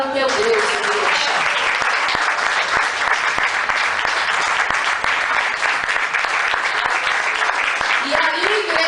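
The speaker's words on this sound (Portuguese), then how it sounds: "As palmas para o teu Deus, igreja." A church congregation claps loudly and steadily throughout, a dense wash of applause from a crowd at a worship service, with a voice calling out briefly at the start and end.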